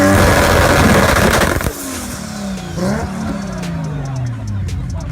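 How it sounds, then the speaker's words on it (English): A turbocharged car engine revs hard and loud at first, then drops away, with a lighter rise and fall of engine tone following and a faint high turbo-spool whistle on top. "That high-pitched whistle as a turbo spools is an iconic sound that everybody loves"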